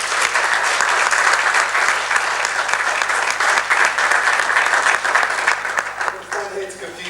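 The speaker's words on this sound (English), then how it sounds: "I just want us to give him a great big round of applause just to welcome Adisa." A Black History Month launch audience in Luton gives the poet Adisa a loud, sustained round of applause, with dense clapping that thins near the end as voices emerge.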